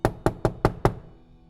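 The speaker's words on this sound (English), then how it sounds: "I heard a very loud knock at the door." Five loud, sharp knocks land on a door in a quick, even rhythm, each one close and heavy with a short ring after it, then quiet with no voices.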